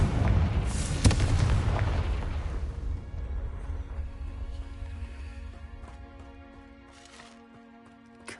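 A Confringo fire spell in Hogwarts Legacy bursts with a deep, booming explosion that rumbles and then fades slowly, leaving a quiet tonal game backdrop.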